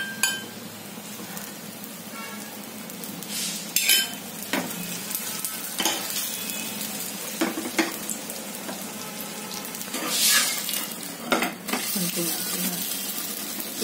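Poha thalipeeth frying in oil in a pan, a steady close sizzle with occasional spatula scrapes and clinks, and brief louder bursts as it is moved or turned.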